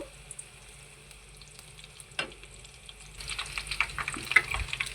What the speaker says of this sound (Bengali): অল্প একটু ভেজে নিছি পেঁয়াজটা লাল লাল হওয়া পর্যন্ত